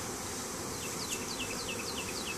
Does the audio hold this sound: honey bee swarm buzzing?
yes